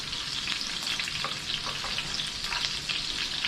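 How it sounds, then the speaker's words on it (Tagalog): Onion and garlic sauté in hot oil for adobong kangkong, a loud, close, continuous sizzle with light stirring scrapes and crackles, no one speaking. "mag-gisa naman tayo para sa ating adobong kangkong."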